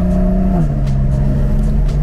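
A Porsche 992 Carrera 4 convertible engine with a stage 2 tune revs up loudly and close, its pitch climbing then dropping briefly as it shifts, continuing to pull hard.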